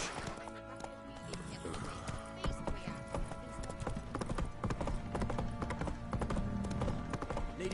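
Roach the horse gallops in The Witcher 3, a rapid, continuous clip-clop of hooves over game music, with a voice speaking alongside.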